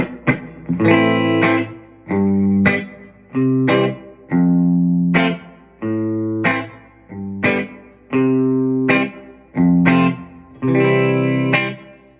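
Clean electric guitar, a Gibson Les Paul on the middle pickup position, through an amp's clean channel with EQ at 12 o'clock, a series of strummed chords ringing out one after another with short gaps, bright and clear.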